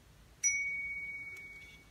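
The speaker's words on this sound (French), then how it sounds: "appuyez une fois de plus pour déverrouiller le téléphone" A BlindShell smartphone gives its unlock sound after the power button is pressed: a single bright, clean chime that rings out and sustains for about a second and a half, close and clear over near silence.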